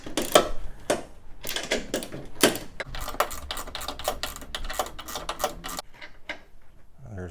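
A pass-through ratchet clicks rapidly in bursts while loosening a 2011-2019 Ford Explorer strut mount nut, sharp and close, with short pauses between runs of clicks and a quiet tail.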